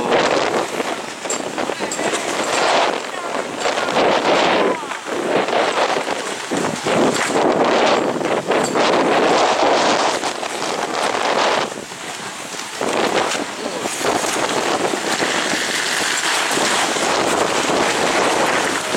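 Strong gusting wind roars across an outdoor paragliding venue in Aceh, a loud sustained buffeting that batters the microphone for the whole stretch, rising and dipping slightly in intensity.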